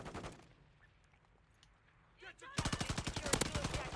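Rapid gunfire from a TAQ Eradicator in a video game shooter, a dense burst of shots in the second half following a quieter stretch with a faint early burst, loud and close.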